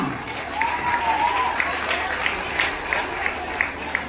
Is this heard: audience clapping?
yes